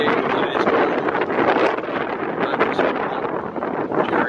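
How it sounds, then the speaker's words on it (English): Strong gusting wind on a cold winter day during a storm, roaring steadily and close against the microphone with broadband buffeting throughout and no voices. "It's windy today, but it's cold."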